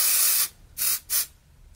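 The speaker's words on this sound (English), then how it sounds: "I just do it mostly at the root and then go down a little bit." Texture spray misted onto hair at the roots: one long hiss, then two shorter bursts, loud and close, with no talking.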